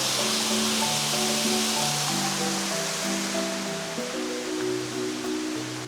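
A small waterfall in a Hmong hill-tribe village at Doi Suthep, Chiang Mai, pours with a steady broadband rush of water, close and constant, with faint tonal sounds over it.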